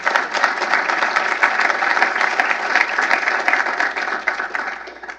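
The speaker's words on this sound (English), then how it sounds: "Yes, round of applause for you." An audience applauds at a policy lecture, a dense, sustained wash of clapping from many hands that stays loud and steady for about five seconds before tapering slightly.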